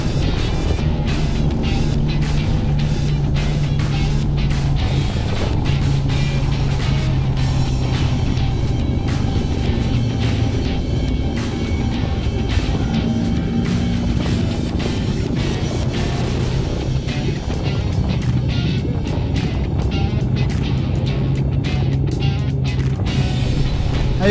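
Steady road traffic near Caba, La Union after a typhoon, a continuous low rumble of cars and motorcycles passing close by, with engine drone filling the whole stretch and no clear talk.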